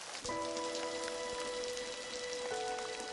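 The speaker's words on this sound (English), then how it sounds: "On Monday night, rain began to fall on Chicago." Steady hiss of rain falling on surfaces around Chicago at night, a continuous wash of drops with a few sustained tonal lines running through it, no voices present.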